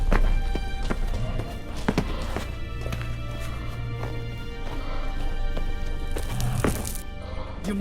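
Horse hooves clip-clop at a steady trot in The Witcher 3 video game, a regular rhythm of close, moderate thuds over a continuous bed of game music and ambience.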